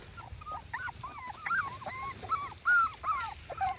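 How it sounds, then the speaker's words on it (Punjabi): Several puppies brought outside near straw whine and whimper close by in a run of short, rising and falling high-pitched cries, with one louder yelp near the end. "ਅਸੀਂ ਜਨਾਬ ਕਤੂਰੇ ਬਾਹਰ ਆਂਦੇ ਨੇ"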